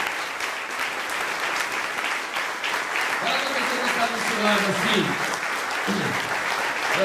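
A church congregation applauds God with sustained, lively clapping from many people, while a voice speaks over the applause partway through.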